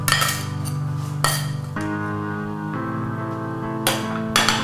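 Rice pilaf being plated for a Southwest meal, with a few sharp clinks of dishes and cutlery over a steady musical background.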